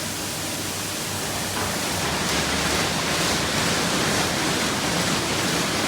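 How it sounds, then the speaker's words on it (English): An Istobal car wash wheel wash sprays water in a steady, loud hissing rush that grows slightly stronger partway through and continues without a break. "Oh, there's a wheel wash."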